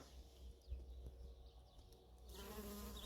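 A steady insect buzz hums quietly outdoors, like bees at work nearby, with a faint background hiss and a brief shift in ambience near the end.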